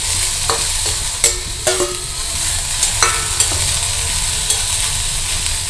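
Onions, curry leaves and ginger stir-fried in a pan for potato kurma, a steady sizzle with scattered clear scraping knocks of the spatula turning the mix, close and continuous with no talk.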